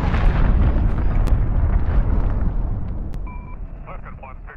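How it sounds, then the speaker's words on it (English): A cruise missile detonates in Call of Duty: Modern Warfare with a loud, sustained roaring blast and heavy low rumble, slowly fading over several seconds before brief high electronic tones sound near the end. "cruise missile away"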